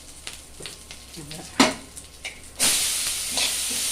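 Asafoetida hits hot oil in a pan with green chillies. After a few quiet clinks, a sudden, loud, sustained sizzle bursts up close and keeps hissing to the end.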